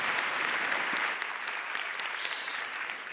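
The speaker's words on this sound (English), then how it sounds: "A big round of applause to our speakers" A conference audience applauds its speakers at a vocational excellence forum, a dense, steady wash of many hands clapping throughout, moderately loud and sustained with no speech over it.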